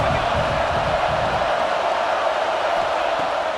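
Steady stadium crowd roar in EA Sports College Football 26, a broad continuous wash of many voices at constant loudness, with faint lower murmur early on.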